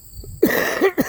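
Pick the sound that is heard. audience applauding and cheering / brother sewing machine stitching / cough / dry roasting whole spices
cough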